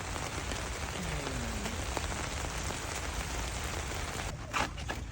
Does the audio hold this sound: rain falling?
yes